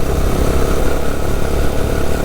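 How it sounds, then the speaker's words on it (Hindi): A motorcycle engine drones at a steady 40–50 km/h on a road toward Nandana Fort near Jhelum, a loud constant low rumble with no breaks and no talking over it. "बाइक चल रहा है 40-50 की स्पीड पे।"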